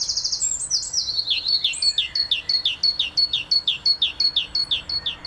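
A great tit sings a repeated, rhythmic series of bright two-note phrases, close and clear, with a few high chirps at the start and no talking.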